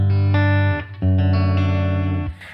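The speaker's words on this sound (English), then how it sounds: "Hall reverb here." An electric guitar through a Boss Katana 50 amp set to hall reverb plays two sustained distorted chords that ring into a wide hall reverb tail, loud and close, with no talking.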